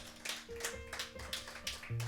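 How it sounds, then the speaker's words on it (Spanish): A church congregation claps along in a steady rhythm, about eight even beats, heard at moderate distance with a musical tone humming beneath and no talk over it. "Dale el aplauso"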